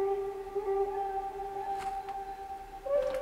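Sakura plugin instrument in FL Studio playing a trap beat melody, sustained soft synth tones stepping between a few pitches, with faint percussive ticks around the middle and near the end.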